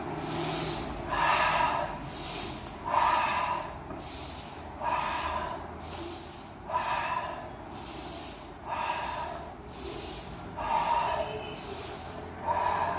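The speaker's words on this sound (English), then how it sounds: "So I'm going to exhale here. And inhale up." Forceful breathing during a lower back stretch: about a dozen sharp, airy exhales and inhales in a steady rhythm roughly a second apart, close and clear over a low constant hum.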